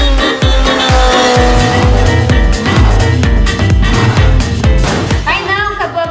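A car in a children's comedy story drives off over loud, steady backing music with percussive hits, and a brief tire squeal rises near the end.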